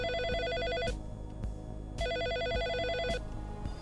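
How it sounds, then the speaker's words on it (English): A telephone rings in the video game Always Sometimes Monsters, two clear electronic warbling rings about a second long with a pause between them, over quiet background game music. "Look, it's already ringing."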